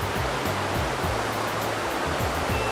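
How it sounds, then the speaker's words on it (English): A rainforest waterfall with flowing water, a dense, steady broadband rush that stays close and constant from start to finish with no talking. "Waterfall. Show you a bit about the water."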